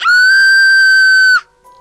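A woman's high, sustained scream from a video game, a single steady shriek held for about a second and a half, loud and close, then cutting off abruptly into near silence.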